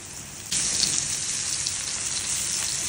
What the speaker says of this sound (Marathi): दोन्ही साईडने व्यवस्थित भाजूया छान असे मासे